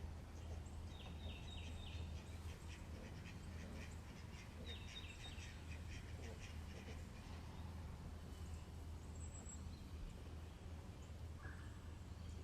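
Ducks quack faintly while feeding in a big front yard, scattered calls and short bursts at a distance over a low steady hum, with chirping birds in the background.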